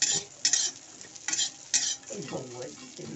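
Bori (lentil dumplings) fry in a pan with a steady sizzle while a utensil stirs them, giving several short scraping bursts near the start, then a softer, continuous crackle toward the end.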